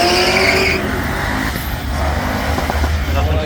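A stock Holden VY SS does a burnout at the drag strip, its engine roaring loud and close as the tires squeal and skid against the track.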